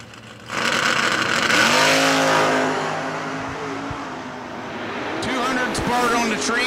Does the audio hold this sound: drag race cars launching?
yes